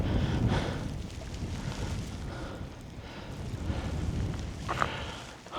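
Strong, steady wind buffeting the microphone with continuous gusty roar, no talking.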